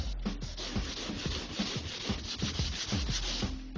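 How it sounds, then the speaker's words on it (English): A scratch is being rubbed out of a car's painted body panel by hand under heavy pressure, giving close, steady rhythmic rasping strokes that repeat without pause. "I'm trying to rub a scratch which is going upwards there."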